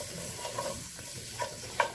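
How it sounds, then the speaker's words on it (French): Steady sizzling in a hot Le Creuset pot as floured vegetables are stirred, with a few soft scrapes and clinks over the continuous frying hiss. "Je saupoudre un peu de farine, un petit peu mélanger tout ça"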